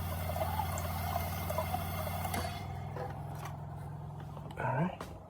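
A SimPure Y9A UV countertop reverse osmosis filter slowly dispenses water, a steady hum with a running trickle that eases off midway, followed by a brief rising gurgle near the end.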